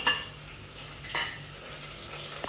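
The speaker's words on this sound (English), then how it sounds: "I'm put the onions in the oil. I'm gonna fry it until the onions are" Onions fry in oil for Ghanaian jollof, with a steady soft sizzle under two sharp clinks of a utensil against the pot and a faint tap at the end.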